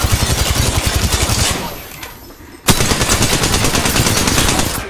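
Rapid automatic gunfire in Apex Legends ranked play: steady, fast rattling bursts, a brief lull, then a loud resumption of sustained firing, close and dominant.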